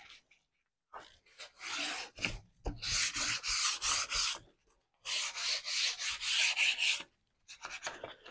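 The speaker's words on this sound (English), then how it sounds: "where did that bit of sandpaper go?" Sandpaper worked by hand across a wooden bench top in a shed, heard as several close bursts of brisk rasping strokes separated by short pauses, with no talking.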